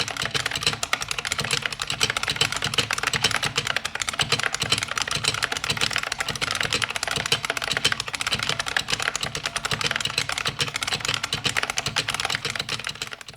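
An IBM Model M buckling spring keyboard clatters under fast, continuous typing, each keystroke a loud, crisp click in an unbroken stream, heard close and alone.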